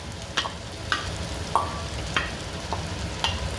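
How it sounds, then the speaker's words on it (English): Homemade kuey teow goreng with kucai is mixed in a pan. Six light metallic spatula clinks, spaced about half a second apart, sound over a soft frying hiss with no speech. "we're going to give a nice good mix for this homemade special Kuey Teow Goreng"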